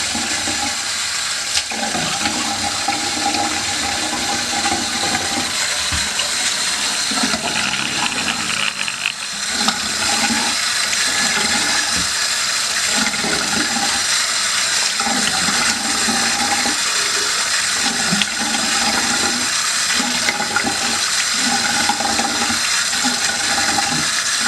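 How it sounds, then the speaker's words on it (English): Tap water runs loudly and steadily while a face is rinsed, with splashes and shifting gurgles throughout and no speech. "I'm going to rinse my face off"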